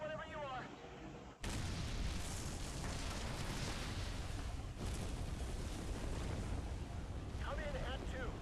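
A rocket launches in the game Ace Attorney: Dual Destinies, a sudden loud roaring blast that holds as a broad sustained rumble for several seconds after a brief quieter lead-in.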